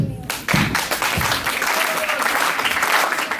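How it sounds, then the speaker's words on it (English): Worshippers at a Janmashtami gathering begin clapping together, with rapid, loud hand claps building into dense applause, and a voice briefly audible at the start. "Start clapping."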